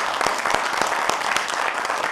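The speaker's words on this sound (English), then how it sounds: "let me go ahead and lead the applause to that thing" Applause from the audience at an Arkansas Game and Fish Commission meeting, a steady wash of many hands clapping with a few sharper claps standing out, continuous and fairly loud throughout.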